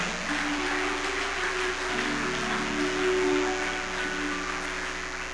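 Steady applause from a church congregation, a broad wash of clapping held evenly throughout with faint sustained tones beneath.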